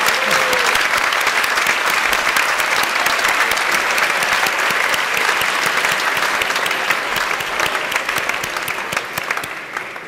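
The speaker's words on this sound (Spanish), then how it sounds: "fuerte aplauso, sí señor." A graduation ceremony audience gives a long, loud, steady round of applause with dense hand clapping, fading slightly near the end.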